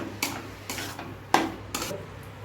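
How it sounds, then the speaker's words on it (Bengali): Grated coconut stir-fried lightly in a pan as a filling for milk puli pitha, four distinct scraping strokes of a spatula at an even pace over a faint sizzle, no voices. "এখন এটাকে আমি হালকা হিসেবে ভাজা ভাজা করব।"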